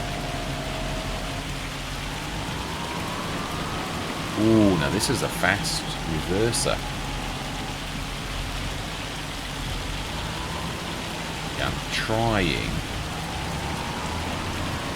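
Steady rain in Farming Simulator 25, a constant hiss of falling drops with game machinery tones beneath, while someone talks over it at intervals.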